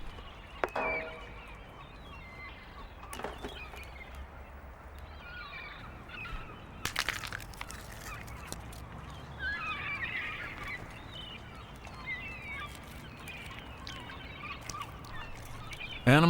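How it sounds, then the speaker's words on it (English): Gulls call at low tide on Jamaica Bay, New York, in scattered raucous cries that come and go over a quiet outdoor background, with one louder burst near the middle and another right at the end. "When the tide is out and the clams are exposed, the gulls can cause quite a racket."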